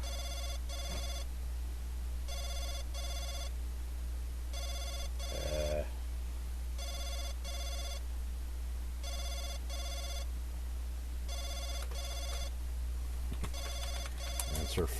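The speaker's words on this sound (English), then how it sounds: "The shrill sound of the phone ringing fills you with a sense of panic." A telephone rings in a horror video game, a shrill electronic ring in regular double bursts repeating steadily over a low steady hum. Brief soft thumps and clicks break in now and then.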